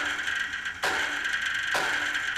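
A baseball strikes the miked metal foul pole at Yankee Stadium: two sharp clanging hits about a second apart, each ringing on over a steady, noisy stadium background.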